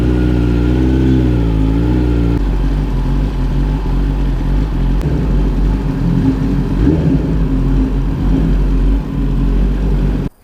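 A 2022 Kawasaki ZX10R superbike's loud exhaust revs steadily up close, its deep, harmonic-rich engine note dipping briefly before settling into a continuous roar for about ten seconds, then cutting off abruptly.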